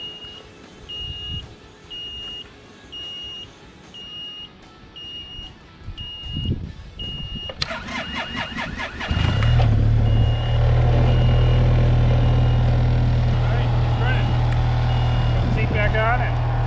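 A snowmobile engine turns over and catches around the halfway point, then settles into a loud, steady idle as it warms up for grooming cross-country ski trails; quieter rustling and faint beeping come before the start.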